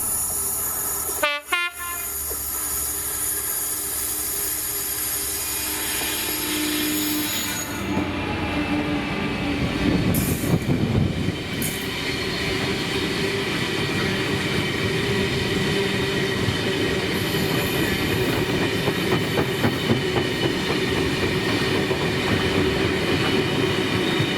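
Class 66 locomotive 66733 hauling the Alcan tank train from North Blythe to Fort William, slowing to enter Drem Loops; a horn sounds early, then loud rumbling wagons and squealing wheels roll on steadily nearby.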